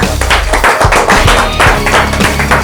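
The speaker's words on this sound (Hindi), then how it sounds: "जोरदार तालियों के साथ स्वागत कीजिए।" Loud, close clapping and tapping to welcome guests on a talent show stage, a dense rhythmic burst of hand claps with some thumps mixed in.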